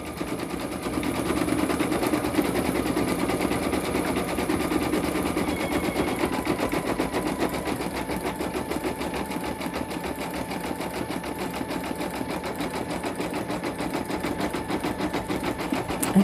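An embroidery machine stitches out a design on a hooded towel, giving a steady, rapid mechanical chatter of needle strokes that runs evenly and fairly close throughout with no talking.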